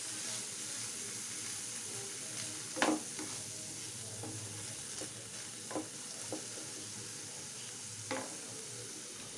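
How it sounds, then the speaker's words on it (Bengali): Paneer being lightly sautéed in a pan, a faint steady sizzle with occasional sharp clinks of a spatula against the pan, no talk. "এবার এর মধ্যে দেব পনিরটা একটু হালকা সতে করে নেব।"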